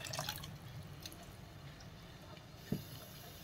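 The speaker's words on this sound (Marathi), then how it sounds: "थोडंसं पाणी लागेल असं वाटतंय म्हणून मी थोडंसं पाणी टाकते।" A little water poured into Gujarati kadhi in a pot, soft low splashing and dripping close by with a short clunk near the end.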